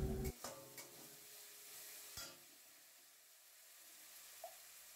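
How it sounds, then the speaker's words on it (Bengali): A spice paste with a little water and sugar is stir-fried in a kadai, with scraping stirs and a soft sizzle, heard close up and fairly quiet, with occasional clinks. "মশলাটাকে আবার কষিয়ে নেওয়া হবে।"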